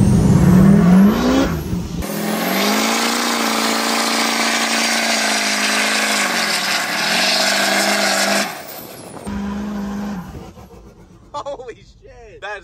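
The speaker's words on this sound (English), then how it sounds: "Does it do a burnout, though?" A lifted truck's loud engine revs hard during a burnout and holds a high roaring whine for several seconds, then drops off, followed by quieter rumbling and a voice chirping at the end.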